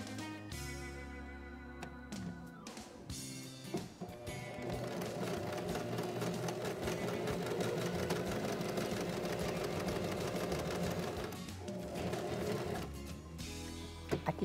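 Sewing machine stitching a square seam on fabric for inset clothing pockets, a steady, close mechanical hum and rapid needle rhythm running for about ten seconds between brief pauses.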